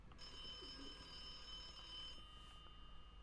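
A telephone rings in the video game The Occupation: a steady electronic ringing tone lasting about two seconds over a quiet background hum, with no voices.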